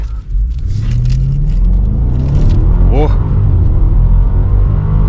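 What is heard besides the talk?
car engine accelerating in sport mode during test drive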